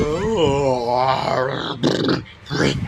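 A person's voice imitates a dog, making close, loud growling and barking sounds with strained, gruff bursts.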